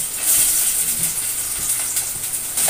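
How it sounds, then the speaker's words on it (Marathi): Finely chopped onion sizzling in hot oil for a Malvani fish dish: a continuous bright, airy hiss with faint crackles, heard alone. "तेल आपलं गरम झालं ना की लगेच आपण त्याच्यामध्ये बारीक चिरलेला कांदा घालायचा."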